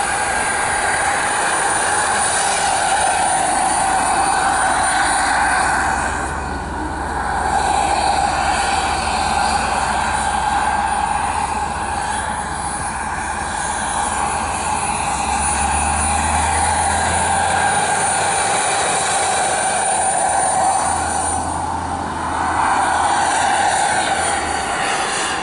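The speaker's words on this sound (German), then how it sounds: "Eine Maschine fliegt uns jetzt wieder Sascha Frank vor" A scale model BK 117 helicopter flying at an outdoor model helicopter meeting, its turbine whine and rotor drone steady and continuous throughout, moderately loud with slight swells as it passes.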